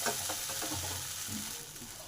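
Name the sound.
frying and stirring ground drumstick stem paste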